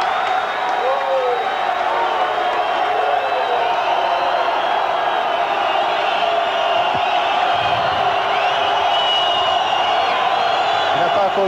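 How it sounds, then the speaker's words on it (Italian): A deafening home crowd roars at a Trieste basketball game in the closing seconds, with constant loud cheering, whoops and chanting throughout and a commentator talking over the top. "assordante, il tifo triestino"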